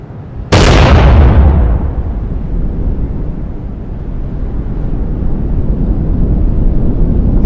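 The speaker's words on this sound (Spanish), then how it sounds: "la onda de choque llega a la cámara. Escuchas un fuerte estruendo seguido de un sonido aterrador." Shock wave from a nuclear bomb explosion hits with a sudden loud blast, then a deep, continuous rumble rolls on without fading.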